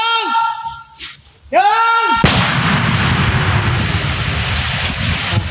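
A sudden massive blast from a controlled detonation of unexploded ordnance erupts after a brief stretch of calm, then a long roaring rumble of debris and wind-like noise fills the rest, near the border in Sisaket, Thailand.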